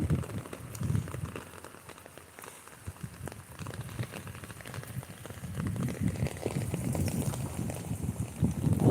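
Steady rain falls outdoors in a village, a broad continuous patter that swells louder toward the end, with no voices over it.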